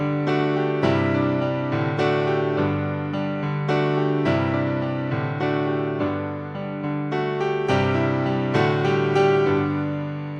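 Solo piano plays the main riff of a cover song, with steady repeated chords and a bright melody over a sustained low bass. The playing is close, full and even, with no voices.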